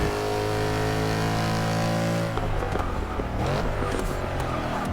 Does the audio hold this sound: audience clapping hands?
no